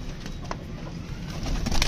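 Pigeons coo softly nearby, low throaty murmurs repeating over a faint background rustle.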